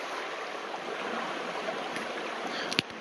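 A brook flows beneath a trail bridge in a forest park, a steady, even rush of water close by with a couple of faint knocks near the end.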